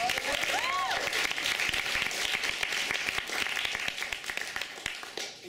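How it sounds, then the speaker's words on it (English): An audience applauds after a comedy show performance, a full, steady wash of clapping that thins slightly toward the end, with a short whistle near the start. "Let's give another round of applause."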